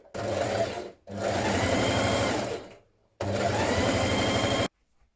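A sewing machine runs in two long, steady bursts with a short gap and a brief stop, stitching a turned-up hem over an overlocked edge on a dress; the motor whirs loud and close.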